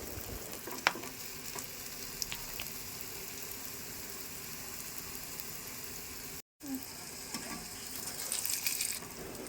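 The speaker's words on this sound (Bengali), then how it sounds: "তেল গরম হয়ে গেছে, এবার পরোটাগুলো ছেড়ে দিচ্ছি" Egg-stuffed mughlai parathas frying in hot white oil, a faint continuous sizzle with occasional crackles and a brief dropout midway.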